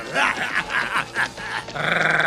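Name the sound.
dog growling in a cartoon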